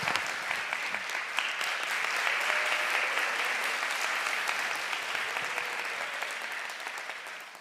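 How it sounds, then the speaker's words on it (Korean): A congregation at an anniversary service applauds to welcome a new chairman, sustained even clapping from a roomful of people that slowly fades. "따뜻한 박수로 환영해 주시면 감사하겠습니다."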